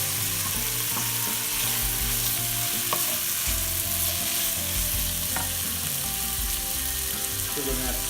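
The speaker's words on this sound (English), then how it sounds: "Now we're going to add our onions." Chopped onions fry and sizzle in a hot pan for bunny chow, a steady close crackle with scraping stir sounds and occasional clinks throughout.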